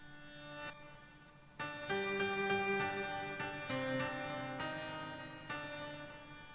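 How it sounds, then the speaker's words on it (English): Piano layered into a rock song production mix, sustained chords and single notes ringing together with other instruments at moderate level, no voices. "But a really cool thing that we put in was this like piano"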